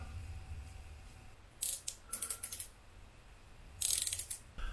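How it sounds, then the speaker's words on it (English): A ratchet tightening a 10 mm captive bolt while fitting a lever on a Ducati motorcycle, with two short runs of quick clicks separated by a pause, close and moderately quiet, no talking. "And then we've got our little captive bolt that we're going to do, our 10 millimeter."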